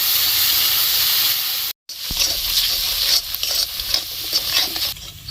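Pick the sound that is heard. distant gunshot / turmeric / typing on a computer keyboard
turmeric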